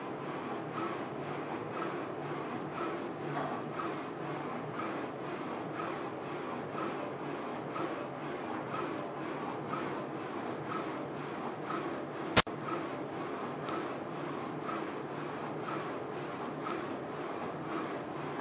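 A Focus Alpha-Jet A2 UV printer prints on a bottle, its carriage making a steady rhythmic shuttling rasp, about two passes per second, continuous and close, with one sharp click partway through.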